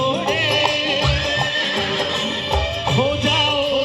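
A horse-neighing sound effect whinnies repeatedly over loud, dense music during a live folk song performance on stage in Surat.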